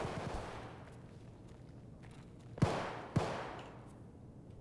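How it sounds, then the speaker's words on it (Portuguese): Two sharp gunshots ring out a half-second apart over a quiet background, distant and echoing in-game gunfire in Escape from Tarkov. "Opa, já tá, já tem tiro."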